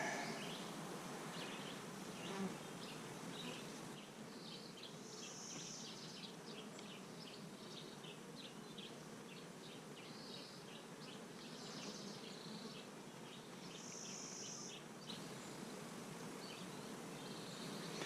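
Honey bees swarm densely over the frames of an open hive, their soft, continuous buzzing holding steady at low volume with no voices over it.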